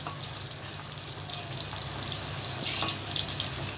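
Steady bubbling sizzle of chicken balls deep frying in oil, continuous and close, with faint crackles and no voices.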